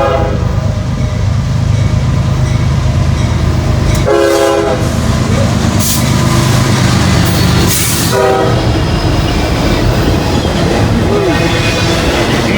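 Freight train of auto rack cars pulled by diesel locomotives passing close by, a loud continuous rumble and rattle of wheels with horn blasts sounding around the middle.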